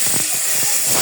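Oil hissing in a hot pan while cooking a fish curry with fried puti fish, a loud, close steady sizzle with brief crackling bursts.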